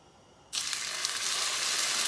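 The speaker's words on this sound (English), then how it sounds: "And a nice sizzle right away." Steaks hit a pan of hot oil flavoured with lemon and herbs, and a loud, steady sizzle starts at once and holds without a break.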